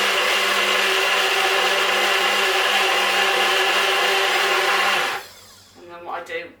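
A Nutri Ninja blender loudly whirs through muffin batter of peanut butter, banana and protein ingredients, holding a steady dense motor drone for about five seconds before cutting off, then faint rattling and handling of the jug.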